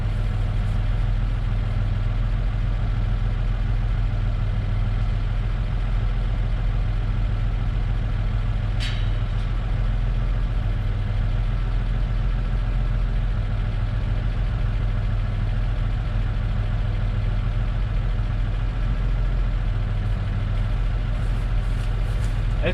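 An engine idles in a steady, loud, unbroken rumble with a gruff, diesel-like clatter, holding constant throughout with only a single faint click partway through.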